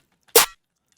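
A single short metallic Foley hit used as a layer in a dariacore snare sample, a sharp bright crack with a brief ringing tail, heard alone amid silence.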